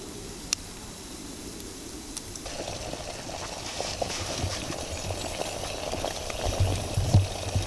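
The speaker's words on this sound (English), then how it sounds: "So that's not just a rolling boil, but a galloping boil, I would say, after 8 minutes." Two cups of water at a galloping boil in a pot on a rocket stove, a steady bubbling and hiss that grows louder and more agitated.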